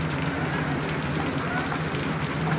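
Steady rain falling on a surface during a rainy day, an even close hiss of drops that runs unbroken through the whole short stretch, with no voices.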